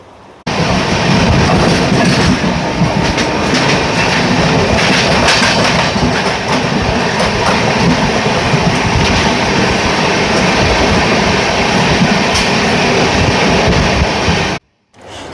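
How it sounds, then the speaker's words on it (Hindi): Two passenger trains cross, the Okha Rameshwaram Express and the Dadar Western–Bhuj Sayajinagari Superfast Express: a loud, close, unbroken roar of wheels and rhythmic clickety-clack lasting about fourteen seconds before cutting off abruptly. "ट्रेन नंबर 20907 दादर वेस्टर्न भुज सयाजी नगरी सुपरफास्ट एक्सप्रेस के साथ में क्रॉसिंग।"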